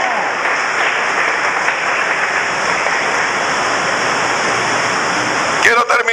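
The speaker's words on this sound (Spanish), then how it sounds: "Dale un aplauso al Rey de la Gloria y a su nombre." A church congregation at a Spanish-language sermon fills the room with dense, loud, steady applause that carries on for several seconds, and a voice breaks in briefly near the end.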